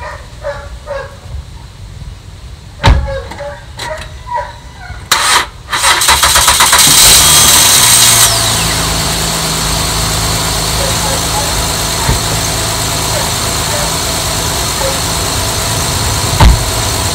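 A car engine cranks and catches after a battery jump start, turning over briefly before settling into a steady idle; a dog barks intermittently earlier and a voice speaks before the start.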